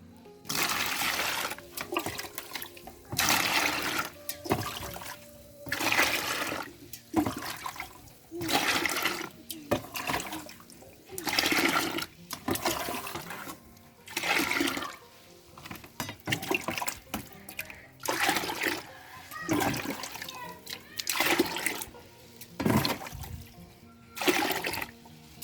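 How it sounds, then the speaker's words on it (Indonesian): Water mixed into homemade organic urea fertilizer made from leaves, heard as loud rhythmic sloshing and splashing bursts repeating every couple of seconds, close to the mic. "saya akan campur dengan 10 bagian air ya"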